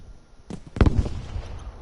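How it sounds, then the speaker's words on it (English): A sharp anti-tank grenade blast in a multiplayer war video game: a quick pop followed by a heavier booming burst, close and loud, then a short rumbling decay with no talking. "that is an anti-tank grenade perfectly placed there"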